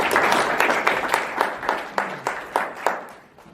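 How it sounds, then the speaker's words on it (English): Audience applause at a speech event: a steady wash of many hands clapping that thins into a few distinct claps before fading out, with no voices over it. "So another round of applause for him."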